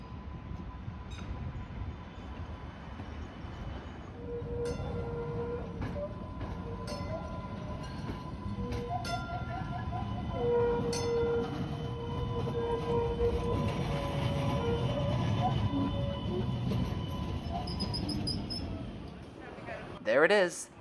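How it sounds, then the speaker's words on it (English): An MBTA Green Line E-Line light rail train rumbles and squeals as it pulls into Heath Street station in Boston, steady rolling noise with brief wheel screeches, ending in a louder clunk. "the E-Line's first train of the day is arriving at Heath Street."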